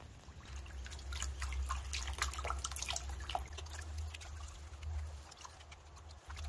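Water sloshing and dripping in a gold pan while panning ore down to the heavies, soft irregular splashes and trickles over a low rumbling background, fairly faint and continuous.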